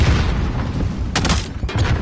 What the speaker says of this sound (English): A lot of explosions off the bat yet again.